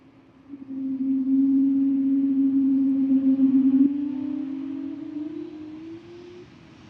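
Jet engine roar of a geared turbofan Airbus A220 airliner departing Amsterdam Schiphol Airport, a sustained low droning tone that swells, holds, then slowly rises in pitch as the aircraft moves away, heard at a distance.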